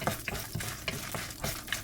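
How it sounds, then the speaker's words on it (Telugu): Green and dried red chillies fry and get stirred in a pan while making moringa leaf chutney, a steady close sizzle broken by repeated scraping strokes of a spoon about every quarter second, with no talking. "తర్వాత పచ్చిమిరపకాయలు కొంచెం బాగా ఫ్రై అయ్యే వరకు కలుపుకుంటూ ఉండాలి."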